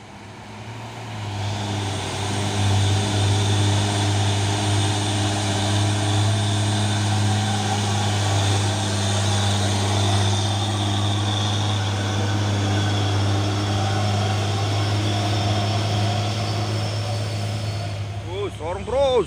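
A Hino 500 truck carrying palm oil seedlings drives by with a loud, steady low engine drone that holds for the whole stretch. Road noise runs underneath, and people talk over it.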